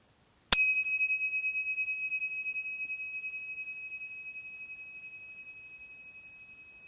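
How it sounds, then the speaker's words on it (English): Meditation bell struck once to end a practice, a clean bright ring with sustained pure tones that pulse gently and slowly fade over several seconds in silence. "at the sound of the bell, taking your time to come back to our shared space"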